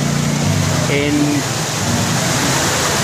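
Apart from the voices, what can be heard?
Meléndez river flowing water after rain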